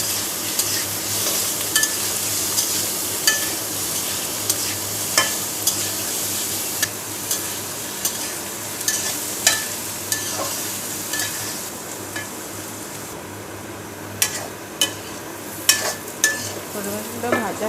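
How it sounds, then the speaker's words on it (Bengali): Watermelon rind frying in a pan with turmeric and salt, a steady close sizzle broken by repeated scraping stir strokes and light clinks throughout, with no voices. "সামান্য একটু হলুদ আর একটু লবণ দিয়ে প্রথমে এটাকে লাল করে ভেজে নেব।"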